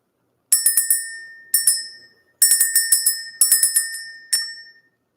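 A small hand bell is rung to clear energy in five separate bursts of quick, bright dings. Each burst rings out and decays before a brief silence, with no talking over it.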